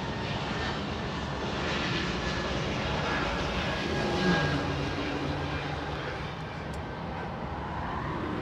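Aircraft engines roar steadily at Los Angeles International Airport, a broad, continuous, loud jet rumble that holds for the full eight seconds with only slight swells and no talk.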